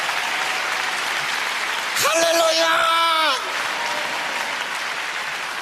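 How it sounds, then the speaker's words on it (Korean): Congregation applause fills a church during a prayer meeting sermon, a steady wash of clapping throughout, with a brief sung or called-out exclamation from a voice in the middle. "박수 쳐야 되는 거 아니야?"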